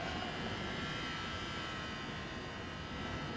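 A New Jersey Transit train engine in Train Simulator gives off a steady droning hum with a buzzy, tonal edge, holding constant at moderate level with no speech.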